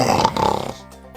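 A man snoring in his sleep gives one close, loud, rasping snore that fades into a soft exhale.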